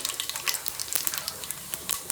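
Rapid crackling and popping of cumin and mustard seeds spattering in hot oil, close up, with many sharp little pops over a steady sizzle.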